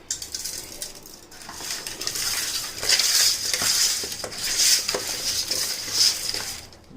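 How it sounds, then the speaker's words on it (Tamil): Kola (needlefish, long pointed snout) rubbed with salt to clean it before making fish kuzhambu: steady close scrubbing and rasping with bright gritty bursts and clinks, no talk. "உப்பு போட்டு க்ளீன் பண்ணிட்டு முதல்ல உப்பு போட்டு நல்லா உரசு"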